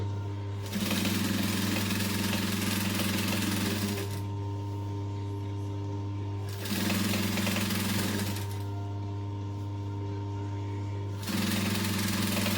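A sewing machine stitches a backpack strap in three loud, close bursts of steady motor hum and rapid needle chatter, separated by short pauses.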